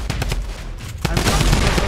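Rapid bursts of automatic gunfire from the video game Fortnite crackle loudly in quick repeating shots, briefly pausing before another dense volley.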